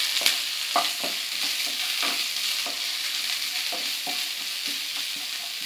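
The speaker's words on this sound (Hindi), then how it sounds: "प्याज को थोड़ा भून लें।" Finely chopped onion frying over low heat in a pan for Gobi Manchurian makes a loud, continuous close-up sizzle, with regular scraping strokes as it is stirred.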